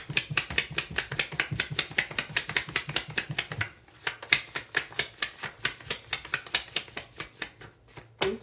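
Tarot cards are shuffled in a rapid run of soft papery slaps, which then slow to sparser, spaced taps.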